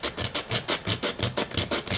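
Rhythmic rasping of a file or sandpaper scuffing the servo bay of an Eternity F5J glider wing, about five strokes per second, close and steady.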